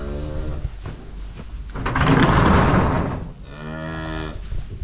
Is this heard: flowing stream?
no